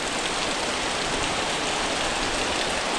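A downpour hammers a Konkan village, a constant broadband roar of rain striking roofs and ground, uniform and near, with no one speaking.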